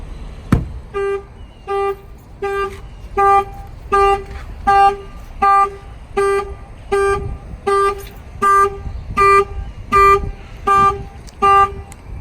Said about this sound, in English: Factory alarm will trigger.